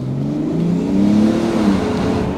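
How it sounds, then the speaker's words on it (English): A 2025 Mercedes GLE 450d diesel engine at full throttle, a loud, steady low drone heard from inside the SUV as revs climb smoothly, with no talking. "Let's give it full throttle here."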